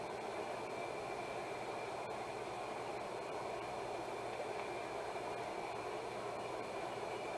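A train running a loop rumbles on continuously, a faint, steady rolling noise with a faint whine and no voices.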